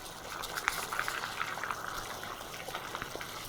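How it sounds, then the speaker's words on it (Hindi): Manchurian gravy curry with Manchurian balls simmers to a boil in a pot, giving a steady low bubbling with scattered small pops and plops, fairly quiet and with no talking. "एक अच्छा बॉयल आने तक इसमें पकाएंगे"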